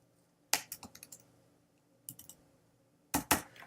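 Quick bursts of close, crisp keyboard typing in three separate clusters with quiet pauses between, as R code is entered on a computer keyboard.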